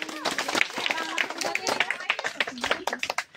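A school Independence Day assembly crowd claps together in a sustained, dense patter of many hands, with voices talking and calling out over it throughout.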